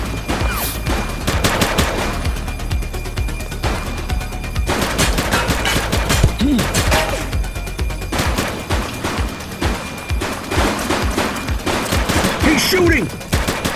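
Bursts of gunfire from a police shootout in The Precinct, rapid volleys of loud, close shots coming in clusters across the whole stretch with a few short gaps between.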